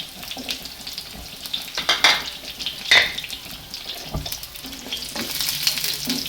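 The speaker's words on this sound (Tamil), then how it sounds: "வெங்காயம் போட்டு நல்லா வதக்கணும்." Onions sautéing in oil with garlic already fried golden, a constant crackling sizzle under repeated spoon scrapes and taps against the pan, close, with a couple of louder stirring strokes and no speech.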